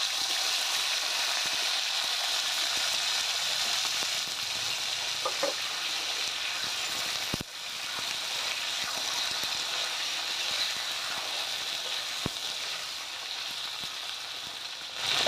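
Sliced okra sizzles steadily in hot oil tempered with whole cumin seeds, a continuous close frying hiss that holds at an even level, broken by a few faint stirring clicks and no talking.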